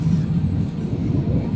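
Regional train riding through Switzerland on the Glacier Express route, a steady low interior rumble of wheels on track, close and even, with no voices.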